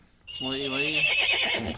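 A person imitates a horse's whinny during a game-show-style category round: one loud, close, wavering neigh rising and falling for over a second.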